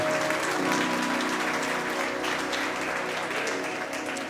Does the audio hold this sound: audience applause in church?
yes